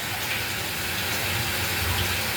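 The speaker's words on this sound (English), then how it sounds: "The washer is filling water." A Speed Queen commercial washer filling with water: a steady, loud rushing gush of water pouring in, with no break, close up, with no voices.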